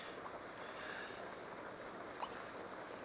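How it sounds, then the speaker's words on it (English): Steady soft rain pattering indoors in The Sims 2, a faint even hiss of drops with occasional small splashes, no voices. "why is it raining in the house?"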